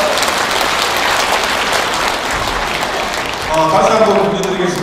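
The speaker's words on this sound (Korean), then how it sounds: "큰 박수 부탁드립니다" An audience applauds at a Buddhist dharma assembly marking a temple's 108th anniversary, held in a Busan hotel. The clapping is steady and dense, with a voice speaking over it.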